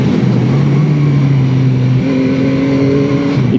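The 887 cc three-cylinder engine of a 2021 Yamaha MT-09 motorcycle revs close by, a strong steady drone whose pitch steps up midway through, with no voices.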